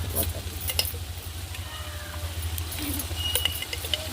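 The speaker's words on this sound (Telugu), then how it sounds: "అల్లం పల్లి పేస్ట్ వేసుకుంటున్నాను" Ginger garlic paste sizzles in a pan while being stirred, a steady frying hiss with occasional clinks of a utensil, along with a low background hum and faint distant voices.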